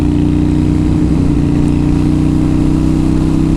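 A steady, loud 2007 Kawasaki Vulcan Mean Streak cruiser motorcycle engine hums continuously at a constant pitch while riding, with no voices over it.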